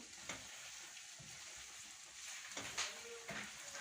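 Boiled potatoes in a buttery milk curry fry in oil in a pan over a raised flame. A soft, low sizzle runs under a few scraping stirs that clink against the pan.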